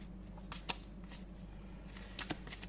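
Tarot cards are shuffled in the hands in a quiet room, faint papery riffles with a few brief sharper snaps, close but soft.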